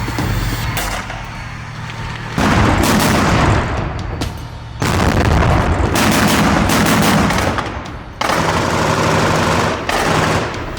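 Heavy gunfire bursts on a battlefield, with a tank firing on positions amid loud rapid volleys in long stretches separated by brief lulls, close and harsh, with no speech.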